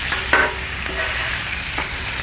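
Bacon frying on a Blackstone griddle gives a steady, dense sizzle that runs throughout, broken by a few brief clicks and scrapes from a spatula.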